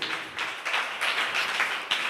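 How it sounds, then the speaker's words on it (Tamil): A church congregation claps together in a dense, continuous patter with a few louder swells, steady and fairly close throughout. "நல்ல கைத்தட்டி ஆண்டவருக்கு நன்றி சொல்லுங்க."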